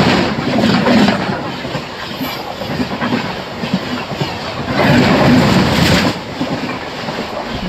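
ICF passenger coaches on the Vijayawada to Guntur passenger train run along the track, giving a loud, rhythmic clickety-clack of wheels over rail joints that swells and eases in repeating bursts, with a faint squeal at times.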